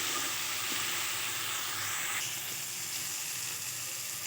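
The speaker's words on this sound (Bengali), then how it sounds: "বেশ কিছুক্ষণ সময় নিয়ে এটাকে কষাতে হবে" Taro and potato being sautéed with spices in a pan, a continuous dense sizzle and hiss with faint stirring, steady and moderately loud.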